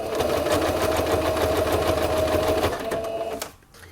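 Sewing machine stitching a seam on a small towel, a steady fast mechanical whir running close and loud for about three seconds before slowing and cutting off near the end.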